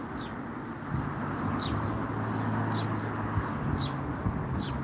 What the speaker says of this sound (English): The little birds in the tree.